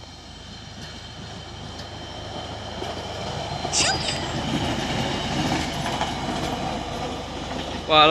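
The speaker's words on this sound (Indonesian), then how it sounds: "Kereta ukur nih ya." KUJR track measuring train passing close by on the line, a steady rumble with rail clatter and brief wheel squeals through the middle, with a voice talking over it.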